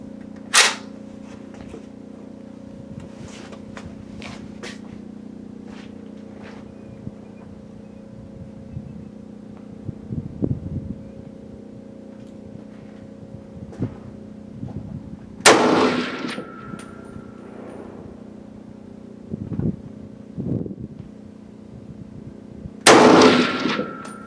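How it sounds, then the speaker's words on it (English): Rifle shots from a Century Arms C308 with a UTG 3-9 variable scope at an outdoor range: a few sharp, loud reports spaced seconds apart over a steady low engine-like hum, with faint clicks and knocks between shots. "Luke is shooting the C308 with the UTG 3-9 variable scope, and the range is hot"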